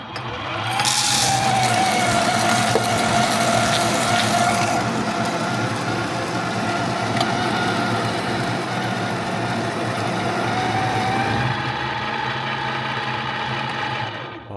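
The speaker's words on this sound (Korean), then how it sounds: "다시 이번에는 150 rpm 정도로 분쇄를 진행해 보겠습니다" A Mx. Cool Aries coffee grinder runs at about 150 rpm, grinding in the espresso range, giving a steady, close, unbroken mechanical whir that holds for over ten seconds before easing off at the end.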